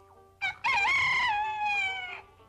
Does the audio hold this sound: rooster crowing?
yes